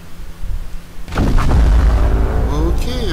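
A shotgun blast rings out in the video game Killing Floor 2, a single loud, close boom that cuts in abruptly and leaves a sustained rumble over dense game noise and music.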